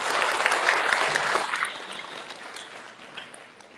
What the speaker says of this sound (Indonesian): Tepuk tangan untuk Mas Ipo.